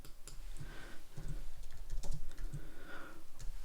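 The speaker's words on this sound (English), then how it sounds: "I'm also getting faster at typing," Fast typing on a computer keyboard, close and fairly quiet, with irregular bursts of clicking keystrokes and no voices.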